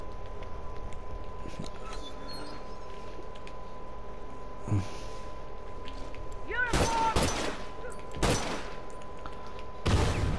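Shots from the El Diablo weapon in the Final Factions video game, a few loud sharp cracks spaced apart over steady low background noise and a faint continuous tone.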